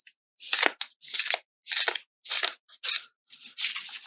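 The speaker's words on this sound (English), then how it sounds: "And then the brushing sound for your overhand." An overhand shuffle of an oracle card deck: six or seven separate brushing swishes of card against card, close and crisp, in an even rhythm with short pauses between, no talking.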